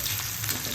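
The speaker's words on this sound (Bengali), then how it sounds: "এখন কড়াইয়ে তোমার আলু ভাজা ভাজতে দিয়েছি" Potatoes frying in oil in a wok (kadai) in a home kitchen, a steady broadband sizzle with a low rumble beneath, continuous and close throughout the short moment.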